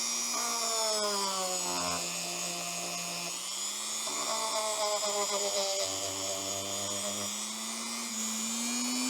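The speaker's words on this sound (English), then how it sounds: "then I'll go in with the Kratex, see if it'll smooth it out" A rotary tool fitted with a Kratex abrasive wheel polishes a cast bronze Pokémon figure made from scrap bronze, giving a continuous close high-pitched whine whose pitch dips and rises as the wheel bears into the metal, with no voices.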